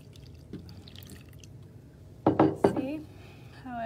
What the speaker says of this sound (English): this is the cool science part where you pour the milk, the hot milk